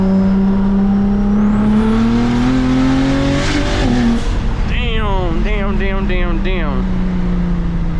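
BMW 335is with a top-mount single turbo pulls hard under acceleration while driving, its engine note rising steadily and loud, with some tire or turbo whine toward the end.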